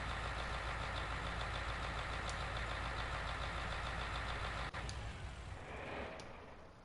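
A tractor engine idles in the Farming Simulator game, a steady, loud low rumble that runs unbroken and then drops off slightly near the end.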